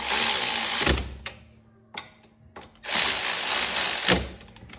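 A 12mm socket wrench tightens bolts on the front wheel of a 2003 Yamaha Blaster ATV, giving two bursts of fast mechanical ratcheting separated by a quieter pause with a few clicks, close and fairly loud, with no talking.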